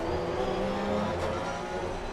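A race car in Assetto Corsa Competizione, its engine a steady faint drone as it runs alongside and passes, with no voices.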